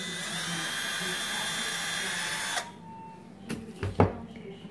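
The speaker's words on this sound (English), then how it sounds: "you can use a needle and put it in a drill like I did" A small high-pitched rotary drill fitted with a needle as its bit whines steadily for a couple of seconds, then cuts off, followed by a few soft handling knocks and clicks.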